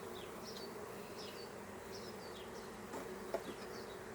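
Honey bees buzz around an open hive during a colony split inspection, a constant close hum with individual bees whining past, plus a faint tap.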